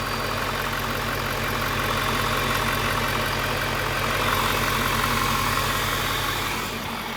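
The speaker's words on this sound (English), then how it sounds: "So the pump is extra hating life right now because we've got it unplugged, so it's full flow, wide open metering unit" A pump with its metering unit unplugged runs at full flow, wide open, producing a loud, steady mechanical drone with a fast, even pulsing that holds for the whole stretch.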